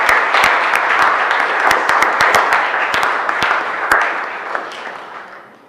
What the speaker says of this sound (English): I really think we need to give them a round of applause